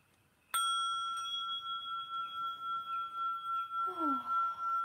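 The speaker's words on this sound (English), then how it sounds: "I'm going to cleanse with my bell here, with my singing Tibetan bowl." A Tibetan singing bowl struck once for cleansing gives a sharp strike, then a long, bright sustained tone that swells and fades in a slow, wavering pulse, alone and fairly close.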